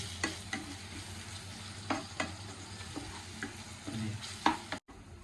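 A spoon stirs ridge gourd and moong dal curry with ginger garlic paste in a frying pan, repeated scraping strokes over a steady close sizzle, with no talking.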